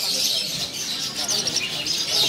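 Canaries chirp and twitter continuously at a bird-selling kiosk, a steady bright chatter of several birds close by with no pauses.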